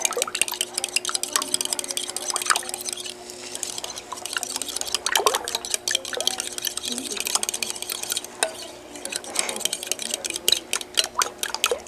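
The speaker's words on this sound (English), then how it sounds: "And then just whisk it together." Eggs with salt and pepper being whisked in a bowl, a steady rapid clatter of whisk against the bowl continuing throughout, close and fairly loud.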